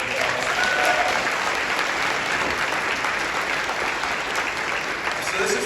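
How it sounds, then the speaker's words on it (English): Sustained applause from an audience at an annual luncheon, steady, dense clapping that holds at an even level throughout, with some voices faintly mixed in. "Let's give them a round of applause."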